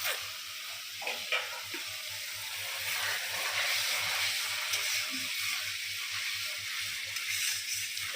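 Spices frying in a pan for a pointed gourd and shrimp curry, a soft steady sizzle and hiss running under light stirring scrapes, fairly quiet and close, with a low hum beneath and no voices.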